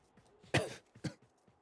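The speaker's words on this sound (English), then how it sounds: "this cough doesn't want to go away" A man at a microphone coughs twice in quick succession, with a half-second gap between them. Both rough bursts are quiet and fairly close, and there is no talk.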